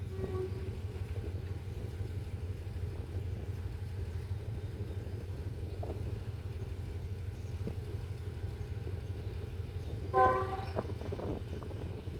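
A GE diesel locomotive rumbles in the background at a busy Bangkok station, its low steady engine drone continuing throughout, with a short horn-like tonal toot rising near the end.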